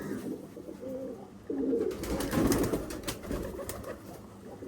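Bombay pigeons cooing in a home loft, soft repeated coos close by over a quiet background, with fuller calls in the middle.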